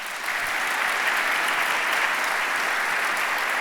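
Sustained audience applause fills a debate hall as two debaters are welcomed on stage, a dense and steady wash of clapping from a large crowd with no voices over it.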